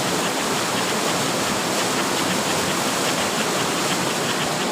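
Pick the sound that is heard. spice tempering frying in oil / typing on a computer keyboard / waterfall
waterfall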